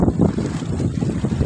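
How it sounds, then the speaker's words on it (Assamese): Wind gusts over floodwater in a steady buffeting roar with low rumble, close and loud, hitting the microphone in uneven pulses with no voices. "এনেকুৱা বতাহৰ শব্দটো আপুনি শুনিছেনে নাজানো"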